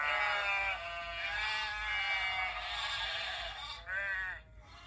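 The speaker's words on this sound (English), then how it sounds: "Okay, you can startle the livestock. That's F4. Let's see if we can ruffle some wool here." A Soundtraxx Tsunami SoundCar decoder in an HO scale Bachmann cattle car plays loud, close sheep bleats, a long wavering bleat followed by a shorter second one, over a faint low hum.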